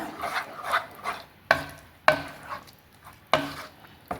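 Gooseberry curry is mixed in a pot, repeated rasping spoon strokes broken by several sharp knocks of the spoon against the vessel, close and fairly loud.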